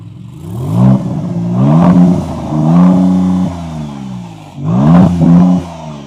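A Maserati MC20 sports car engine revving hard in repeated bursts, each rising then dropping back to a throaty idle, loud and close.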